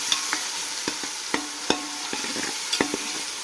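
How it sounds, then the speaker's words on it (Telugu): Onion paste and green chillies fry in a pan, a gentle continuous sizzle punctuated by sharp, irregular spoon clicks and scrapes against the metal as the mixture is stirred. "పచ్చిమిర్చి కూడా కోసేసాను నాలుగు ముక్కలు అయితే తీసేసానండి రెండు మూడు పచ్చిమిర్చి అయితే తీసేసుకున్నాను ఇంకా అవి కూడా బాగా ఫ్రై చేసేసుకున్నాము"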